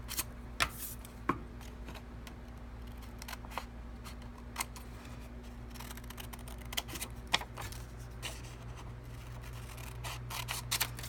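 Scissors snipping paper along accurate curves, a quiet run of short crisp cuts and rustles close by with a steady low hum beneath, and no talking.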